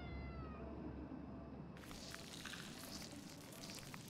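A cat in the horror game Conarium gives a drawn-out, faint meow, followed by soft crackling noise. No one speaks.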